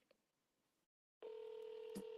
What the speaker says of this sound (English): you'll hear the call ringing